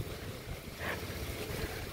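Strong typhoon wind blowing outdoors, a steady broadband rush and roar with a brief gust swelling near the middle, continuous and fairly close to the microphone with no talking.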